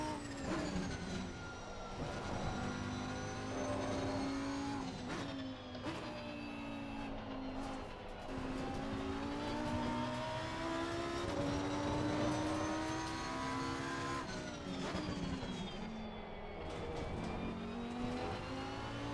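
A Lamborghini Huracan EVO racing car engine in a video game roars continuously at Hungaroring, its pitch climbing and dropping repeatedly as it revs through gear changes, loud and close with no talking.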